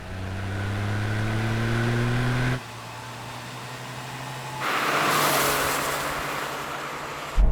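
A small turbocharged car accelerates hard in third gear, engine note rising steadily, then dropping as the throttle lifts and surging back with a rushing whine, heard from inside the cabin.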